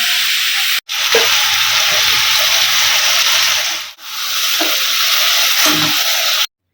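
Potato and cauliflower fry in hot oil in a wok, giving a steady, loud, close sizzle with a few soft stirring scrapes. The sound cuts out briefly twice before stopping.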